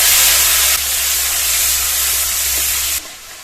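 Loud, continuous sizzling hiss as spiced, beaten yogurt goes into hot oil with whole garam masala and cumin seeds for an egg curry, the hiss dropping and softening after about three seconds.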